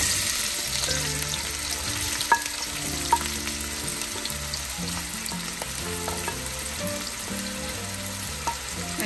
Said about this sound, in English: we need to saute this till the onions get a little brown.